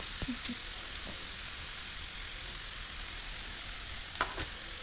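Grated carrot and peas with capsicum roasting in a pan for veg crispy bread rolls, a steady soft sizzle throughout with a few faint scrapes of a spatula, no talk.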